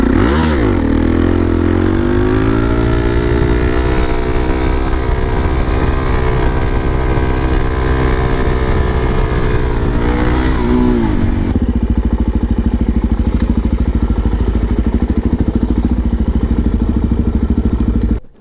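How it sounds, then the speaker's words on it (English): Suzuki DRZ supermoto motorcycle ridden on a quick spin, its single-cylinder engine loud and close, revving up and holding steady through gears, then settling into a rougher rumble before cutting off abruptly. "Just a quick spin on the SuperMoto because it's fun to ride this bike"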